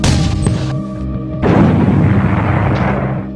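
A Shmel RPO-A thermobaric infantry rocket flamethrower fires and detonates: a heavy, loud boom followed after a short pause by a second, sustained broadband blast and roar lasting to the end.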